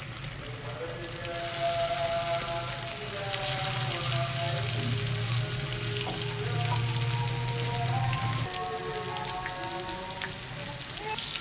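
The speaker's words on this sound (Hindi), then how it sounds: "अब हम अपने कच्चे कीमे के कबाबों को फ्राई कर लेंगे। इसको हम शैलो फ्राई करेंगे" Raw minced meat kebabs shallow frying in oil give a steady, close sizzle with crackling and popping, holding evenly loud throughout beneath a faint low hum that drops out near the end.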